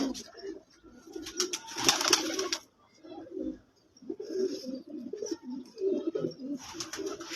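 Pigeons coo in low, rolling bursts, mostly one prized show bird, with brief higher chirps and wing rustles between phrases; the calls repeat several times, close and moderately loud, with no talking.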